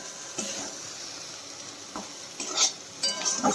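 Ivy gourd (kunduri) frying in a home pan gives a steady oily sizzle, broken by a few sharp scraping stirs near the end.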